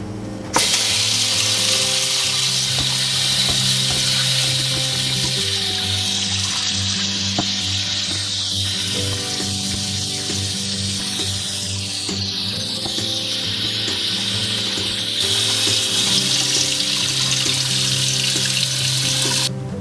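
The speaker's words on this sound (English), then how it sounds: "you gotta rinse these a couple of times under running cold water" Cold tap water runs steadily over two pounds of raw chicken wings in a kitchen sink, a continuous close hiss and splash with no talk.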